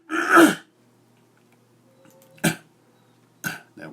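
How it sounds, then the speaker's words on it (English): A man clears his throat in three short, gruff bursts, one long rasp then two quicker ones with quiet pauses between, close and alone. "Clear my throat."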